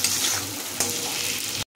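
Ground spice paste frying in a pan with onion and tomato, a close steady sizzle with a brief stirring scrape, cut off abruptly at the end.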